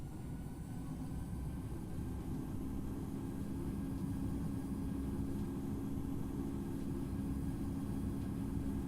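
Airliner engines spooling up for a takeoff roll from Las Vegas in the Infinite Flight simulator, a steady, quiet low-pitched rumble and roar that holds even throughout, with no talking.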